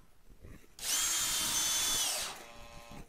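Cordless screwdriver driving a 4x20 Torx screw into a workbench frame built from a height-adjustable desk: one close whirring run of about a second and a half that rises and then stops.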